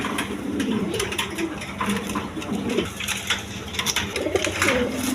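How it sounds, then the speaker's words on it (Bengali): Red khaki chuital coloured pigeons offered for sale coo in soft, repeated low rolls, several birds close by overlapping one another over a steady rustling background. "দেখেন লাল খাকি চুইটাল কবুতর, একদম কোয়ালিটি ফুল কবুতর"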